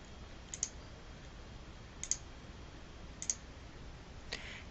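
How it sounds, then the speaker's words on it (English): A computer mouse clicks during structural engineering software work, three crisp double clicks spaced about a second apart, then a softer click, quiet and close, with no voices. "we're going to stay in our modeling mode and then click Done."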